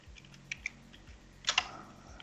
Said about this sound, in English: I hear you typing, but I don't see.